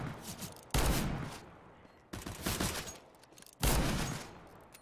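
Weapon fire in Counter-Strike on the Dust2 map: three loud, close bursts of gunfire separated by brief pauses, each a dense crackling volley that fades before the next, with no voices heard.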